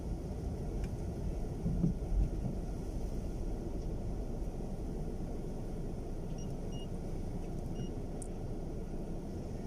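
Strong gusting wind buffets a car driving through Denmark, a low steady roar with swells of louder rumble and no clear talking.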